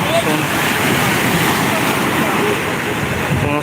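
Sea waves rolling onto old Digha Beach as the high tide rises make a continuous, loud roar of surf mixed with wind buffeting the microphone, with no break in the noise.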